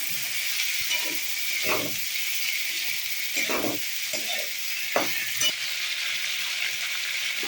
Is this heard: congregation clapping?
no